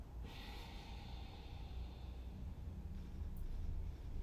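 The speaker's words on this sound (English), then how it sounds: "Let's take a big inhale together through our nose. A big exhale out." A long, slow breath pushed out through the nose and mouth, a soft airy rush that swells and fades, heard close and faint with no talking.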